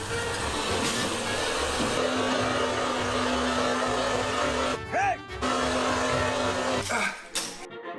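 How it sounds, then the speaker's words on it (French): A steady mechanical whir like a hair dryer runs through most of the clip, with brief pauses and shifts in pitch, and background noise throughout. "J'ai trouvé un sèche-cheveux ici, mais il a l'air très bien"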